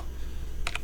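Two quick, crisp keystrokes on a computer keyboard close by, over a faint steady hum, with no talking.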